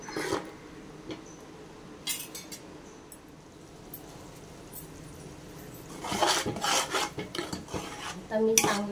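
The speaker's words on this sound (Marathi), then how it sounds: "चांगलं तेलात याला आपल्याला चांगला फ्राय करून घ्यायचं आहे वाटण" Ground masala paste fries in oil for a chana gravy while a spoon scrapes and stirs it in the pan, producing soft rasping and occasional metallic clinks that grow busier and louder toward the end.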